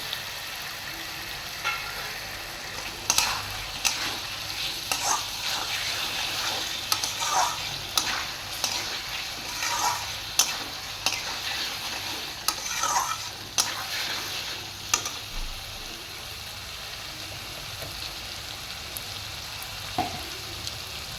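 Tomatoes fry and sizzle in a pan for a fish curry while a spoon stirs them, giving steady close frying hiss broken by repeated scraping stirs, with no voices.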